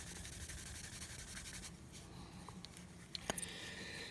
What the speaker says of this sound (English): Scrubbing all the knot shine away.